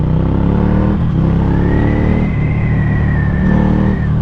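Ducati 797 A2 motorcycle engine revs hard while riding, a loud, close throaty roar that dips and climbs again, with a rising whine under a constant rumble.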